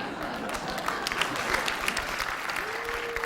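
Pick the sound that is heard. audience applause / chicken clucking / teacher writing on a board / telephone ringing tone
audience applause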